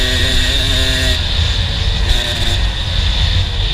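A racing dirt bike engine screams at full speed in fifth gear at the top of the rev range during a Farm Jam race lap, a loud, close, sustained high-pitched drone with a thin whine and rough low rumble.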